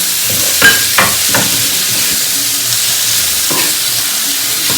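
Bamboo shoot vegetable fries in a pan with chilli powder over lowered heat, giving a steady sizzle with a few sharp crackles and stirring clatters in the first seconds, close and continuous.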